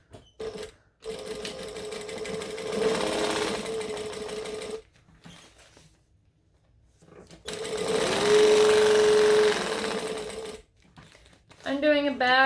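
A sewing machine runs in two long, loud bursts, stitching shut three sides of a fabric piece, with a quiet pause between them and a short voice at the very end.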